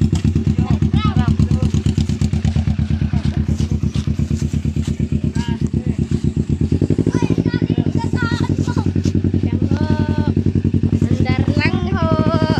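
A motorcycle engine runs steadily in a mountain setting, a loud pulsing putter that continues throughout, with people talking and a voice over it.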